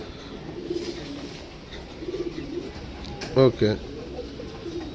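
Pigeons in a bird sales pen in Yelahanka give a couple of low, throaty coos late on, over a steady background murmur, with people talking nearby.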